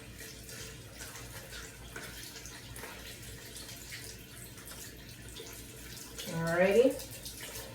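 Tap water runs briefly and rinses a plastic face shield over a sink, rising near the end after a short spoken word.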